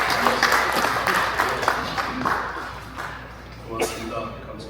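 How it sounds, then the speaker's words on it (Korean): Applause at a pastors' ordination ceremony, a dense, steady burst of clapping from a gathered crowd that fades slightly toward the end. "우리 박수 보내겠습니다"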